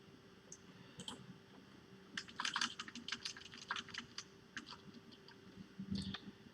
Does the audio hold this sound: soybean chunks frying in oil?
no